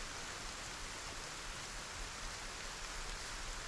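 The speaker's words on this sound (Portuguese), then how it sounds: "Olha o barulhinho de chuva, gostoso." Steady rain in the video game Arena Breakout Infinite, a soft, even hiss of falling drops that fills the whole moment without pause, fairly quiet and with no talking.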